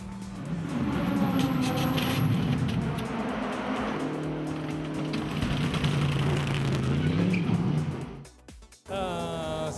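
Race cars lap Sepang International Circuit at sunset. Loud engines roar and shift as cars pass, with tyre squeal. Near the end the sound drops out briefly before another engine tone returns.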